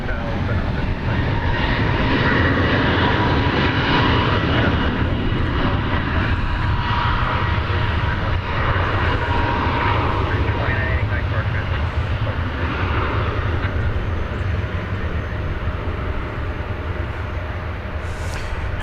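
Airbus A321neo jet airliner taking off from a runway at DFW Airport, a loud sustained engine roar filling the whole stretch, steady and broadband with a slow swell, while people talk faintly underneath.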